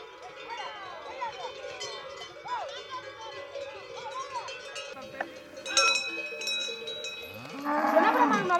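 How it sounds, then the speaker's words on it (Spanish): Cattle low on an Asturian mountain pasture as the herd is gathered, cowbells clanking through repeated moos; distant calls give way to louder, closer clanking and lowing near the end. "Suena a bramar unas vacas para allí"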